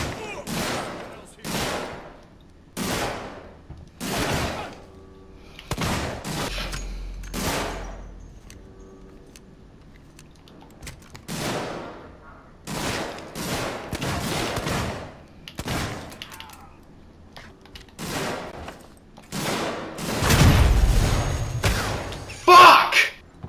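Enemy gunfire in Alien: Isolation, a long run of loud, sharp shots spaced about a second apart, near and steady, with a heavier rumbling burst toward the end.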